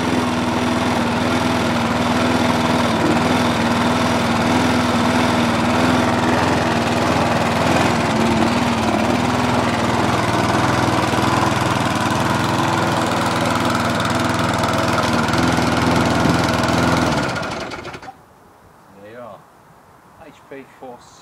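A Mountfield HP 470 four-stroke petrol lawn mower engine runs steadily at close range with a loud, continuous drone, then cuts off abruptly near the end, leaving only faint background sounds.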